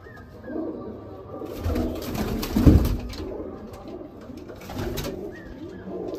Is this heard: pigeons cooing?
yes